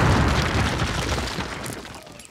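Explosives blow apart a cinder block wall in Call of Duty's D-Day mission with a heavy, booming blast whose rumbling debris wash slowly decays over a couple of seconds.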